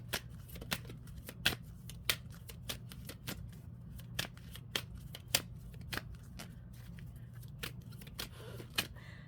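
Tarot deck being shuffled, a quiet steady run of soft close card flicks and taps over a low background hum.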